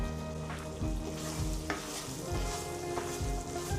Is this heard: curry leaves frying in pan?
yes